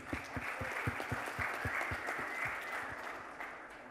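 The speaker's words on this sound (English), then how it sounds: "Can we have an applause, please?" An audience applauds at a lifestyle brand premiere with steady, dense clapping from a crowd in a hall, holding at an even level for about four seconds before easing slightly.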